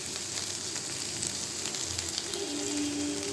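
Pointed gourd (potol) pieces rubbed with spices fry in oil, giving a continuous close, even sizzle with faint crackles throughout and no speech.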